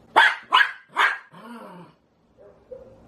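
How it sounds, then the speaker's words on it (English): A dog outside barks three times in quick succession, loud and close, then lets out a drawn-out growling whine followed by a couple of faint short yelps. "Oh, the dog's outside."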